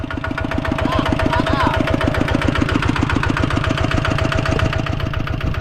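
Thai-made Kubota ZT single-cylinder farm tractor engine chugging steadily in a fast, even rhythm, loud and close throughout with no break.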